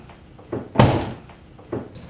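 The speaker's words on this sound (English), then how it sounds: "The door just popped right open." A damaged car door pops open with a sharp metallic clunk and rattle, preceded and followed by softer thumps and handling noises, fairly close and with no one talking over it.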